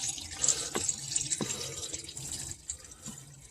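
Automatic transmission fluid from a Honda Odyssey draining out of the opened drain plug, a close, steady liquid pour with splashing and a few sharp drips or knocks.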